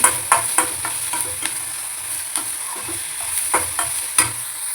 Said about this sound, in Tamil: வெங்காயம் பொடியாக கட் பண்ணதான் அழகாக நல்லா வறுத்து வதக்கி